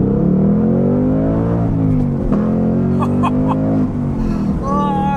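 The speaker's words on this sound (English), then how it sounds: "let's end with one last acceleration here in track mode" A 2023 Ford Mustang Mach 1 V8 with manual transmission roars as it accelerates hard in track mode, rising in pitch through the gears, loud and close, with brief shifts between pulls.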